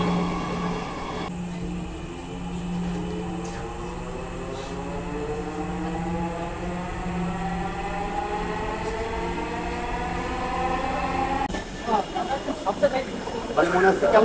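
A Dhaka metro rail train rolls past with a sustained rumble and rising and falling electric whine, loud and steady for most of the stretch before clattering noise takes over near the end.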